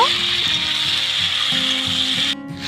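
Tomatoes fry in a pan with panch phoron and bay leaf, a steady bright sizzle running throughout while a utensil scrapes and stirs in irregular strokes, close and fairly loud, with one sharper scrape near the end.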